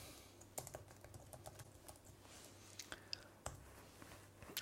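Soft typing on a computer keyboard while working in a design program, with scattered light clicks and key taps, faint and close, over a quiet room tone with no clear speech.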